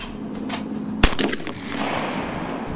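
A single sharp gunshot cracks out loud and close as a clay target is fired on at a gun range during waterfowl hunter shooting practice, with outdoor background noise before and after the blast.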